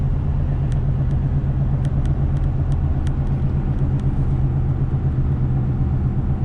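A Ford F450 truck cruises in 8th gear, its engine a loud, steady low rumble inside the cab with light road noise and a few faint ticks over the drone.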